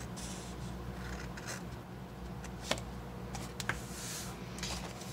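Scissors snip through cardstock while a gift box is being made, a few quiet cutting clicks and rustles against a steady background hum, no talking.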